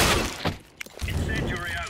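Incendiary grenade smashes in Counter-Strike with a sharp glassy break and a burst of crackling fire, amid other in-game noise and players' voices.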